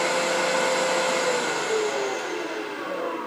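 A wood lathe turns a tenon on a coffee scoop, a steady loud whirring hiss of tool on spinning wood that holds nearly constant and eases slightly toward the end, with no talking.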